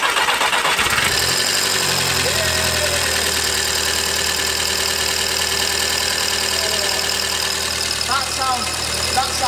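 A SEAT Leon Cupra engine cranks and catches, then settles into a loud, steady running idle with a faint knocking rhythm, apparently from the top end; voices speak briefly over it.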